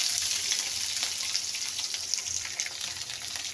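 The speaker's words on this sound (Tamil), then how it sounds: "இப்போ அதை நல்லா தாளித்து விட்டுக்கலாம்." Chopped large onion frying in hot oil after tempering for aval upma, giving a steady close crackling sizzle with faint spattering throughout, no talk.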